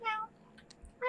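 A person imitates a cat's meow in two short vocal bursts, one at the start and one at the end, with a quiet gap between them.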